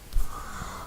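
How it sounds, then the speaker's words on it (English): One short, close cough bursts out abruptly during a quiet programming lesson, followed by faint room hiss. "Sorry about the coughing."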